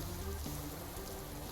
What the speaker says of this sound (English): Driving in the rain, not even needing wipers.